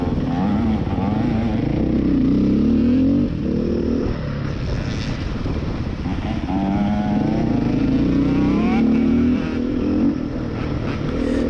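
A 2020 Beta 430 RR race edition motorcycle riding a logging road, its engine a loud, steady, close drone that rises and falls slightly as the throttle changes, with no talking.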